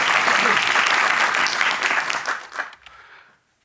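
An audience bursts into applause, full and steady at first, then thinning out and dying away to silence within a few seconds.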